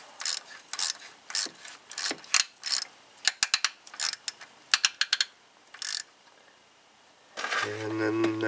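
Ratchet tightening the lower radiator hose clamp on a Duramax LLY 6.6L diesel engine during a water pump replacement, sets of rapid clicking bursts, close and crisp, followed by a louder mechanical hum at the end.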